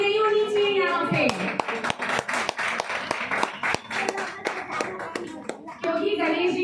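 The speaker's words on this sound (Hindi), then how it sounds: "ताली में कमी नहीं होनी चाहिए यहाँ पे" An audience claps in rhythm at a Ganesh celebration gathering. The quick, continuous hand claps are mixed with children's and adults' voices talking over them.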